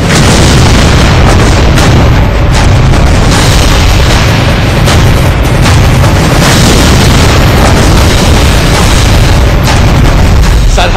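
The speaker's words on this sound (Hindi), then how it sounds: "पाकिस्तान ने 3 बार युद्ध विराम का उल्लंघन किया और भारत के रिहायशी इलाकों पर अंधाधुंध गोले बरसाए" Artillery shells bursting near residential areas along the Line of Control in Jammu and Kashmir, a loud, dense, continuous roar of blasts and rumbling that fills the whole stretch without pause.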